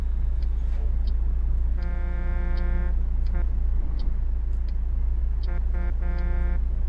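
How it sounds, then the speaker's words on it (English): Air horn on a Western Star 4864 truck in American Truck Simulator, several loud honks of differing length, some long blasts and some short quick toots, over a constant low engine rumble. "Honk the horn."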